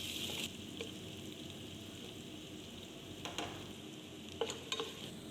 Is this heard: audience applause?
no